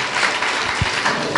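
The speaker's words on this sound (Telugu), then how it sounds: "చప్పట్లు కొడదాం." Congregation clapping at a Christian church service, a short burst of dense, loud applause that carries evenly throughout without talk.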